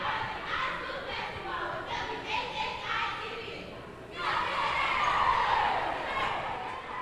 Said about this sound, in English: there's a cheer that only Tony can appreciate